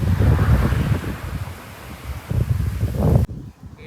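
Hot wind blows in strong, uneven gusts across the microphone during a long trip on a Bullet motorcycle, a loud low rumble that cuts off abruptly near the end.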